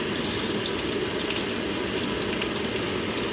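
Sausages frying in a pan, a steady, even sizzle and crackle that stays constant and close with no talk over it.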